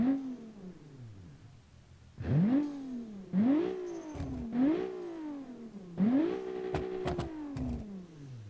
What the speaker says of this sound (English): let's rev it up a bit